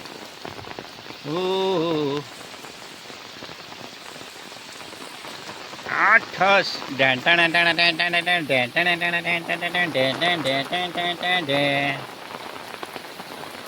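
Steady rain falls across a rural Gujarat village after many dry days, a constant hiss beneath a man singing a folk song in a loud, rhythmic, harmonic voice through most of the stretch.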